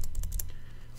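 Typing on a computer keyboard: a quick run of close, crisp key clicks in the first half, then fading to quieter taps, with no voices.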